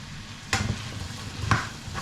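A big spoon stirs sweet potato in a sizzling pan, two distinct scraping strokes against the pan over a low background sizzle.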